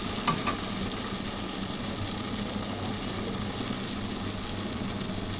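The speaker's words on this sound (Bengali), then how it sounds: "ভালো করে কষিয়ে নিতে হবে।" Spices and new potatoes sauté for alu dum in a hot pan, giving a loud, continuous, close sizzle with a couple of brief utensil clicks near the start.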